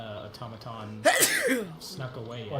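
A single sharp sneeze bursts out about a second in, loud and close, with people chatting before and after it.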